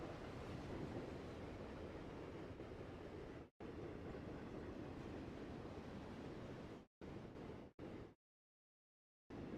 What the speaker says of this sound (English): It's quite a long train for Train Sim Classic.